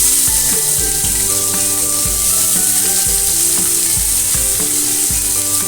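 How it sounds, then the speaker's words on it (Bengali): Chopped onions fry in oil in a wok, a loud, close, unbroken sizzle punctuated by repeated rhythmic scrapes of a spatula stirring, with no voices. "পেঁয়াজগুলোকে আমি একটু বাদামি কালারে ভেজে নেব।"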